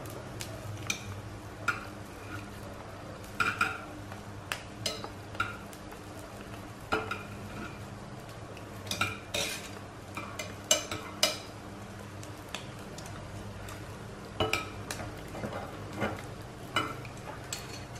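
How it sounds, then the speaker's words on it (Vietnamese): Knife tapping and clicking against a board while a cooked omelette of mơ leaves and chicken egg is cut into bite-size pieces, short irregular taps over a low steady kitchen hum. "Mình cắt lại thành những cái miếng vừa vừa ăn thôi"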